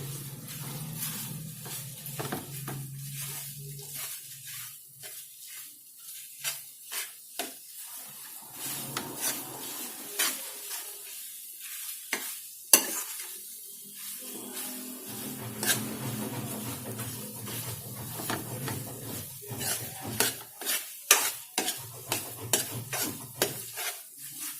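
Mawa being stirred and scraped in a kadhai over a medium flame for sesame barfi, with soft sizzling under repeated scraping and clinking of the spatula against the pan, continuous and close.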